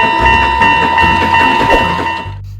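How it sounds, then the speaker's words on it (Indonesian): A toy Thomas train runs steadily close by with a whirring motor and a bright, constant electronic hum, playing continuously before stopping abruptly near the end. "lihat teman-teman, ada kereta api Thomas"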